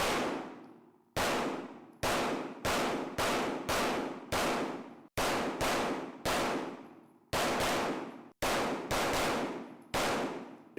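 Pistol gunshots inside an indoor shooting range, a dozen loud, sharp cracks in an uneven rhythm, each followed by a booming echo that decays until the next shot, with no talking.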